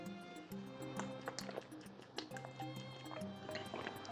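A person drinks water in a few gulps and swallows, with small liquid sounds and soft clicks, close and quiet.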